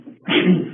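A single short, forceful sneeze bursts out close up during a police interrogation, sharp and breathy. It is heard alone.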